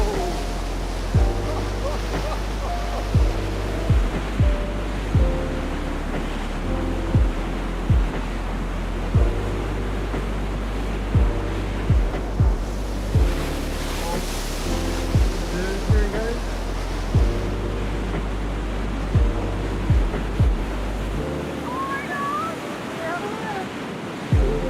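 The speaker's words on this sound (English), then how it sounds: "I think the waves are trying to tell these surfers to stay away." Ocean surf breaks repeatedly near surfers, a steady roaring wash with regular crashing thuds every second or two, heavy wind buffeting the microphone throughout.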